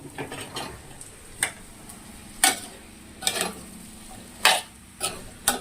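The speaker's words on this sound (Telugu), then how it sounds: "ఇప్పుడు ఈ ములక్కాయలు ఆయిల్లో మగ్గుతూ ఉంటాయి" Drumstick pieces and onions cook in hot oil in a pan, a soft steady sizzle broken by a few sharp clinks and scrapes of a spoon stirring against the pan.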